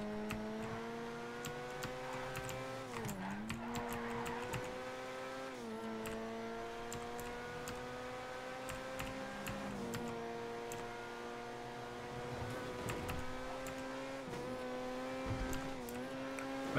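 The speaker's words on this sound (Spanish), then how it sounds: "Este coche del Iñaki corre" A car engine in GTA V hums and revs, its pitch climbing through gears with brief dips at each shift, steady and moderately quiet throughout.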